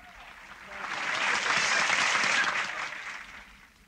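Nightclub-style audience applauds a singer before he sings, the clapping swelling up from quiet, peaking loudly in the middle and fading back down toward the end.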